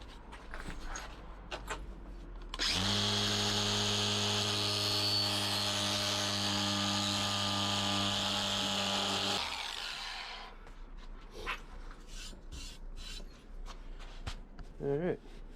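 A power tool with a cheap 400 grit pad sanding a tile edge: a steady, loud motor whine with strong harmonic hum running for about seven seconds, starting and stopping abruptly, with quieter handling noise around it.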